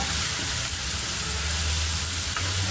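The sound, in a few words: frying tomato and onion masala for chole gravy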